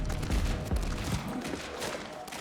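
SMG fire in a fast-paced shooter video game, dense rattling bursts of automatic gunfire mixed with game effects, steady and moderately quiet, with no voices.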